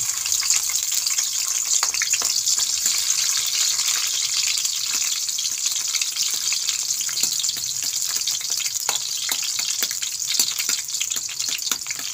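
Garlic sizzles steadily in hot oil in a frying pan, a dense, even crackle with scattered pops that stays loud and unbroken for the whole stretch, with no talk over it.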